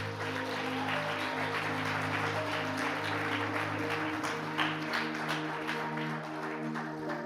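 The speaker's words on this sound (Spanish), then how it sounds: "démosle un fuerte aplauso a él" Congregation applause during a church sermon, broad sustained clapping from the crowd over a steady musical drone, continuing evenly for several seconds.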